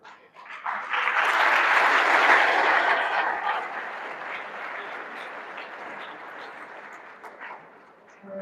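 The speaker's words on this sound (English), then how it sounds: "can you have a round of applause?" A room full of people applauds at a daily announcements gathering, the clapping swelling quickly, peaking loud, then tapering gradually into a softer, thinning patter.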